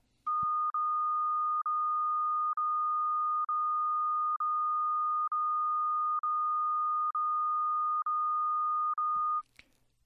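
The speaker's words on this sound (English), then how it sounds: "This sound is a steady frequency, but with gaps of silence inserted." A steady pure electronic tone of a single fixed pitch runs for about nine seconds, broken at regular intervals by very short gaps of silence, evenly spaced like a pulsing beep, clear and alone with brief clicks at start and end.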